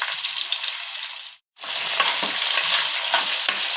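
Sliced onions and curry leaves sizzle and crackle steadily in hot oil with cumin in a kadai, with a brief gap and then continued frying with stirring scrapes, close and fairly loud.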